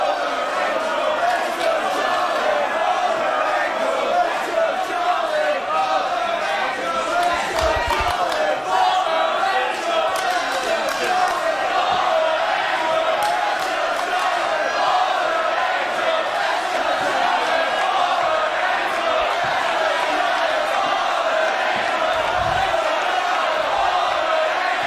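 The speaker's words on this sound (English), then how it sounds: "This crowd reaction is just surreal." A wrestling crowd at 1PW No Turning Back Night 1 in Doncaster, England, cheering and chanting in a loud, sustained roar that fills the arena without letup, with a few thuds and a commentator's voice underneath.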